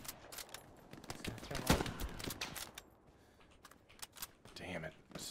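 Machine-gun fire in the World War II shooter Hell Let Loose sounds in sharp, rapid bursts of cracks, some near and some distant, with a player talking over the gunfire.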